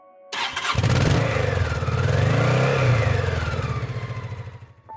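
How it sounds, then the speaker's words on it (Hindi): Motorbike engine at night on a deserted forest road, idling roughly with a rapid uneven putter that rises and sags, then weakens and dies out after a few seconds. "अचानक अनुज की बाइक हिचकने लगी।"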